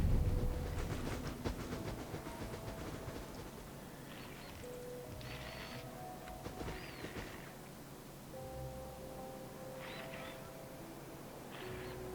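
A train running in the factory-building game Factorio, a steady rumbling roll with clicking wheels under layered game tones and occasional higher chimes, loudest at the start and then settling to an even level.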